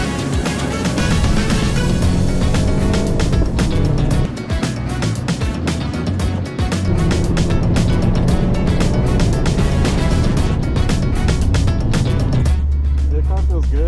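A Subaru WRX on upgraded track suspension drives hard around a race circuit, its engine droning loudly and continuously with shifting revs, while someone talks over it inside the car.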